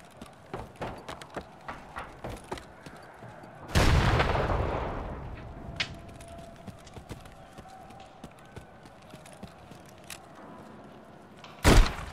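Gunfire in Escape from Tarkov Arena: a loud blast with a decaying tail near four seconds, scattered sharp clicks and taps, and another close shot at the very end, over a quiet background.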